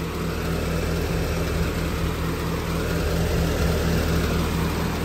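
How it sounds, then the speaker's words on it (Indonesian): A 2006 Suzuki Katana GX with an upgraded Avanza air-conditioning compressor idles smoothly and steadily, a low continuous engine hum with a faint periodic tone running throughout, close and fairly loud with no talking. "Suara mesinnya halus."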